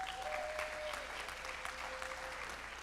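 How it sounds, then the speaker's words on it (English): Audience applause fills a symposium keynote hall, steady clapping from a crowd lasting about three seconds, with a faint tone running underneath. "So let's give Yan a round of applause, please."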